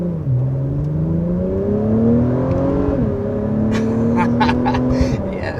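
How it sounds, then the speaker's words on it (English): A 2021 Acura TLX Type S sport sedan accelerating, its exhaust droning and turbo whirring as the pitch climbs through gear changes, loud and close from inside the car, with brief sharp clicks near the end. "I'm loving of course, the exhaust, but also that I can really hear the turbo in a very pronounced way"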